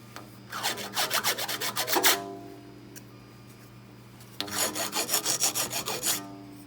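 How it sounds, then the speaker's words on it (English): Two bursts of rapid, rhythmic rasping strokes, a hand file scraping a burr off metal back and forth, close and fairly loud with a short pause between. "So with the belt grinder off, I'm just going to act like a file."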